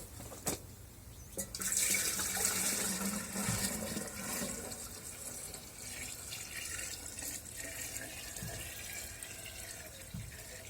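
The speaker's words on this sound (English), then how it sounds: "I'm going to go out here and pour this water." Warm water is poured onto tobacco seedling pellets, making a faint, continuous splashing trickle that swells early and then runs on more softly.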